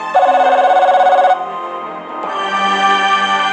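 Telephone in the Broken Sword video game rings loudly with a rapid trilling bell, a pause, then a sustained tonal ring resumes, no talking.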